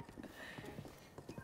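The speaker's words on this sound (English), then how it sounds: "More horses!" Horse hooves clip-clop in a steady walking rhythm in the Breath of the Wild video game, faint and close, with a light game ambience underneath.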